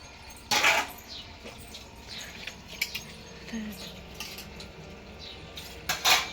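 Intermittent clinks and scrapes of dishes being scrubbed, with a few louder clattering bursts over a soft, continuous background.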